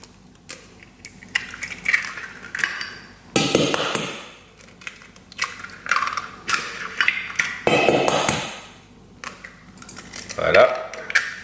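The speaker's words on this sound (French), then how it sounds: "Donc on casse les œufs." Four whole eggs crack against a bowl for a quiche filling, giving a series of sharp taps and crunching shell breaks spread irregularly through the clip, with a person speaking between them.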